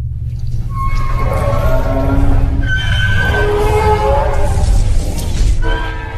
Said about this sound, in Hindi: तभी आधी रात को एक बार फिर से ट्रेन की आवाज आने लगती है